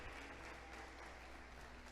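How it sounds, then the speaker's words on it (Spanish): A church congregation claps together in steady, continuous applause that fills the room evenly from start to finish, with no voices rising above it. "¿Cuántos le aplauden al Señor, hermanos?"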